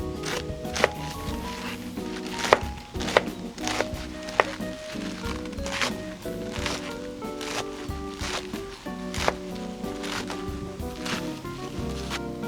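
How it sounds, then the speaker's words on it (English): Stacked pak choi being finely chopped with a knife on a board, a steady run of quick, close taps and crunches with a few louder knocks, set against a faint hum. "go in with a knife, and then just do a fine chop"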